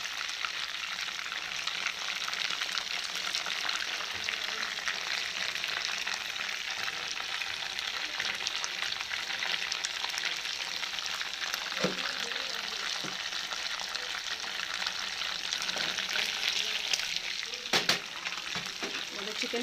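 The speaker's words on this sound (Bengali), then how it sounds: "তো এবারে আরও একটু ব্রাউন করার জন্য আমি ফ্লেমটাকে বাড়িয়ে দিলাম, যাতে প্রপারলি সাইডগুলো কুকড হয়ে যায়।" Chicken pieces fry in oil on a raised flame, giving a dense, even crackling sizzle throughout, with a few light utensil clicks near the end.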